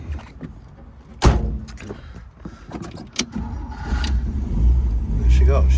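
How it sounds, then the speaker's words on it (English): An original, well-used vintage car with a twin-shift three-speed overdrive gearbox cranks and starts up close by, a door thudding shut first, then the engine catching and settling into a steady, rising rumble. "I'm going to get in it and start it up for you so you can see how well it does run."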